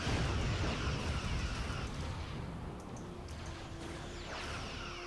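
An IS bomb detonates in a space battle game, a roaring, broad explosion that starts loud and slowly tapers into a long rumbling wash, with faint whooshing streaks later on.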